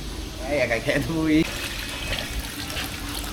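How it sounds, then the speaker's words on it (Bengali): Running water splashes steadily as hilsa fish are rinsed at Mawa, with voices talking over the wash throughout. "মাছ ধোয়া চলছে ধোয়া শেষই বলা যায়"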